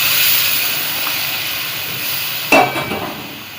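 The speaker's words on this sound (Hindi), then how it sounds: "अभी इसमें हम शामिल कर देंगे सीख कबाब। और सिर्फ 1 से 2 मिनट जो है इसके अंदर हमने हल्का से इसको भी भून लेना है।" Seekh kebabs sizzle in a hot pan with a constant bright hiss, and a sharper burst of spattering flares up late before settling back into the steady sizzle.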